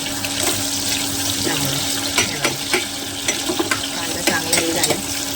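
Green chilies go into onions frying in a pan in a home kitchen, producing a steady hissing sizzle with scattered stirring clicks and scrapes along with a low background hum.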